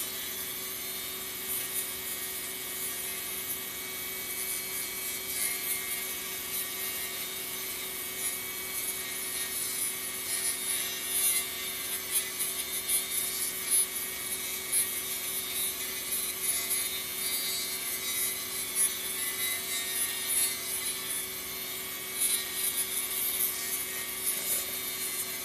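A small mini grinder shapes parts on a Yamaha FG-411-12 twelve-string guitar, giving a continuous high abrasive whine with a steady buzzing drone that holds evenly throughout, with no talking.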